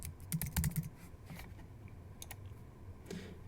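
A folder name typed on a computer keyboard: a quick burst of close, crisp key clicks, then a few sparser taps after a short pause, quiet and without talk.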